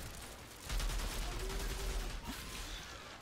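Enemy gunfire in the video game Outriders: a burst of rapid rattling shots rises and keeps going for a couple of seconds over the game's background noise, then tails off.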